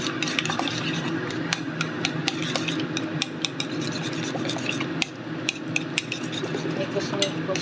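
A utensil scraping and clinking rapidly against a bowl while beating egg seasoned with salt and pepper, a steady stream of small metallic ticks and scrapes at close range, mostly without talk.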